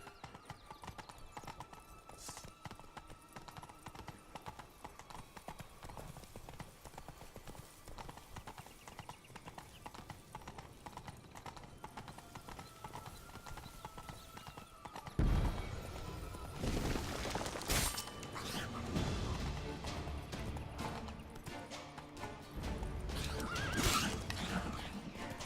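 Hooves of Roach, Geralt's horse in The Witcher 3, clip-clop in a steady galloping rhythm with occasional whinnies, growing louder and busier midway as other game sounds join in.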